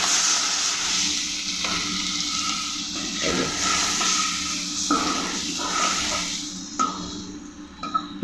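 Spice paste of onion paste, turmeric and cumin powder sizzles steadily in a pan after a splash of water, a continuous hissing fry with occasional stirring scrapes, close and moderately loud with no talk.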